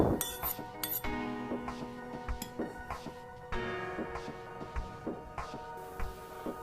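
A spoon stirs milk into khoya in a bowl, giving a run of light metallic clinks and scrapes against the bowl at an uneven pace, close and fairly quiet, with no talking.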